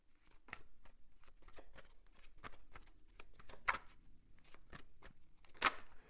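Tarot cards being shuffled, a steady run of quick riffling flicks and soft snaps at moderate level, with two sharper, louder card slaps standing out, no voices present.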